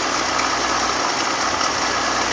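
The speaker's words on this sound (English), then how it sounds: "so we just got this car running and idling for the first time in over 20 years" A 1960 Ford Ranchero's engine, found in a barn and newly revived after two decades, idles in a steady, continuous rumble close by, with no talk over it.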